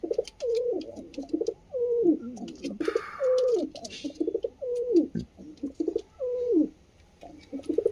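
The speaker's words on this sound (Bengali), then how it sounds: "এই যে মাদি পায়রা, আর এই যে হচ্ছে নর পায়রাটা" Pet pigeons, a male and female pair kept in a loft, coo repeatedly up close in a steady rhythmic series of soft throaty calls, with a faint voice and light background noise.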